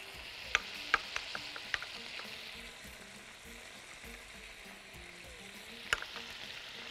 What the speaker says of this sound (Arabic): اول ما تتحمر كويس قوي هبتدي احط البصل